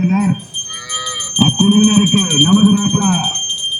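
A Kangeyam breed bull at a cattle beauty contest in Pollachi moos loudly and close up, giving several long, drawn-out lowing calls, with a bell tinkling faintly in the background.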